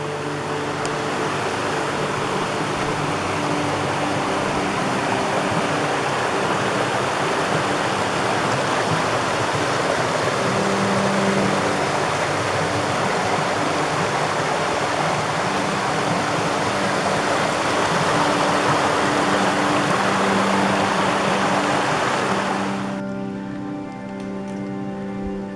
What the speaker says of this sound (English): Multiple water crossings, just little streams.